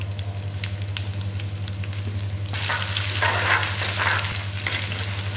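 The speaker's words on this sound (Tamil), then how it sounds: "கொஞ்சம் எண்ணெய் ஊற்றின உடனே இந்த காஞ்ச மிளகாய் எல்லாத்தையுமே எடுத்து போட்டுருங்க" Dried red chillies fry in peanut oil in a clay pot for a village-style chicken chilli curry, a steady crackling sizzle that swells louder partway through, with a constant low hum underneath and no voices.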